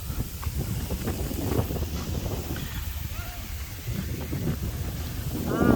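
Strong wind blows outdoors in Thailand's Isan region, a steady, gusty roar buffeting the microphone without a break.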